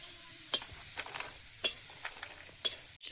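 Dried chilli, whole cumin, crushed garlic and potato frying in oil, a faint sizzle with several sharp scraping stirs spaced about a second apart.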